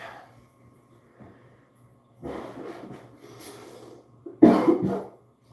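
A few raspy coughs, the loudest one near the end, with quiet breathing between them.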